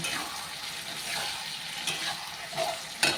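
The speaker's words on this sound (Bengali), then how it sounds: "এখন আমি আলুগুলো ভাজা আলুগুলো এর মধ্যে দিয়ে দেব এখন দিয়ে এটাকে সুন্দরভাবে একটু কষিয়ে নেব" Fried potato pieces being stirred and tossed into a mutton curry in a hot pan, a steady sizzling hiss broken by several short scraping strokes of the spatula, close up with no talking.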